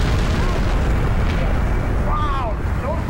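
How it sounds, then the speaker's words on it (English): A deep, sustained rumble from a massive chemical plant explosion roars continuously, with voices shouting faintly over the din. "The explosion is massive."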